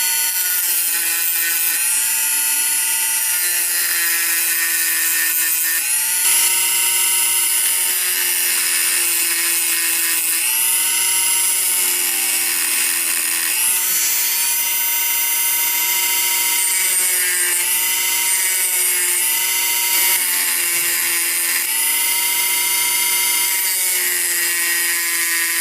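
A blade for a Ganzo G710 clone, a Benchmade Rift copy, is ground on a power grinder, giving a loud, continuous high whine and rasp that wavers as the steel is pressed and moved.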